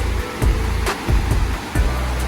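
Steady rushing and splashing of a fountain in Tuen Mun Park, Hong Kong, close and continuous, with rhythmic surges like falling spray.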